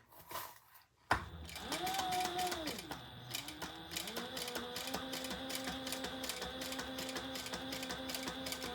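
A sewing machine topstitching a seam on a crossbody bag, a close, rapid mechanical clatter that starts abruptly, pauses briefly, then runs on steadily with motor whine underneath.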